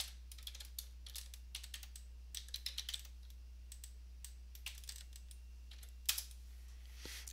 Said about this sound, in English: So I'm going to type my password now.